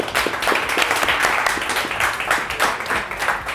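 An indoor audience at a Nerd Nite talk night gives dense, loud, continuous applause for a departing speaker, with clapping sustained throughout.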